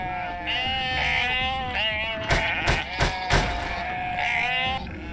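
Sheep bleat repeatedly in the video game UnMetal, a chorus of loud, wavering cries with a few sharper, louder calls in the middle, continuing for the whole stretch.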